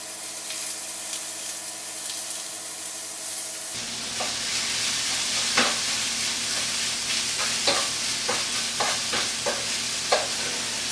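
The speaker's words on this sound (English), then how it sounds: "I'm going to crumble it into the pan with the onions and mushrooms" Crumbled tofu fries in a pan with onions and mushrooms, starting as a steady sizzle that swells louder, with close scraping stirs breaking through the hiss at irregular intervals.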